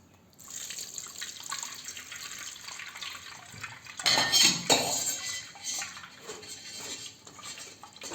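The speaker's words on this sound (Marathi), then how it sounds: "यावरून आता जरा थोडं आणखी साधं पाणी ओतायचं आहे" Plain water poured over soaked poha in a kitchen vessel, a steady close splashing stream with clinks of utensils, swelling louder midway and continuing for several seconds without talk.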